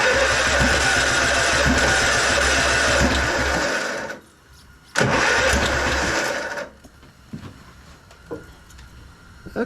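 A 1999 Husqvarna LTH 130 lawn tractor engine with a flooding carburetor runs loud and rough, cuts out, surges back briefly, then dies into near silence with scattered clanks.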